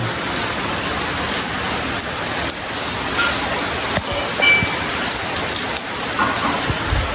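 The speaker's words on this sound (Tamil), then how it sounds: "நல்ல மழை தான் வந்து" Heavy rain pours steadily over a house in Jaffna during a downpour, a dense continuous hiss with patter on nearby surfaces and no voices.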